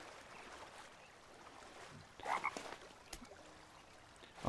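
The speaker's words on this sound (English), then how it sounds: "I keep hearing this bloody toad." Toad croaking in the survival game The Forest, a few short croaks rising briefly over steady ambient forest and water background noise, fairly faint and heard without talk.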